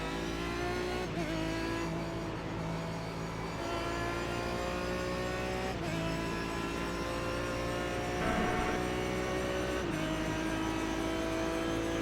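A Proto GT race car engine laps Spa in the iRacing sim: a steady, close engine drone that rises and dips, with sharp gear-change breaks around every few seconds and no talking.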